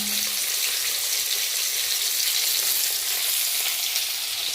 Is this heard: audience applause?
no